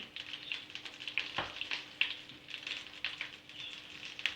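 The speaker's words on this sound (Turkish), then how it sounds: "tereyağını birazcık şöyle yaktım. Limon suyu ilave ediyorum." Browned butter with lemon juice added sizzles in a pan, a close, quiet crackle with scattered pops and spits throughout.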